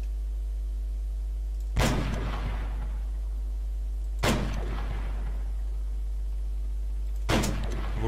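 Three widely spaced heavy reports in an ARMA III firefight. Each is a loud, sudden bang with a long decaying tail, heard over a steady low hum, with no voices.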